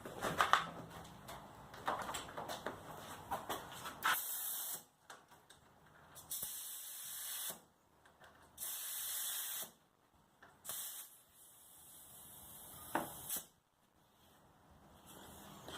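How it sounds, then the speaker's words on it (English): A pump inflating a bike tire, a series of close, sharp hissing air bursts in an uneven rhythm, each lasting about a second, after some quieter handling noise. "Now, we're just blowing up the tire now."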